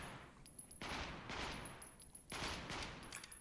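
Bursts of rapid gunfire ring out as targets are shot in the VR shooting game AIM XR, two sustained volleys of crackling shots, fairly faint and separated by short pauses.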